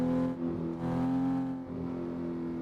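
A car engine in the racing game Assetto Corsa drones at a steady pitch with a slight rev rise and fall, moderately quiet and heard alone with no talk.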